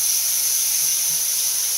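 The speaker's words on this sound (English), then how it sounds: "garlic cooks very quickly. So we're going to be stirring this up and browning it up" Minced garlic sizzles with browning mushrooms in a pan, a close, steady hiss that holds evenly and has no distinct crackles or voices.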